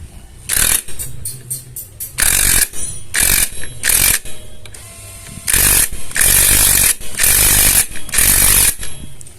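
A power tool tightens the clutch nut on a Yamaha Jupiter Z motorcycle, loud repeated rattling bursts of an impact wrench, each lasting about a second with brief gaps between, close and without talk.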